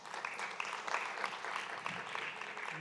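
Audience applause at an intergenerational dialogue event honouring interpreters and the technical team, a steady, moderately quiet patter of many hands clapping throughout, with a faint voice mixed in.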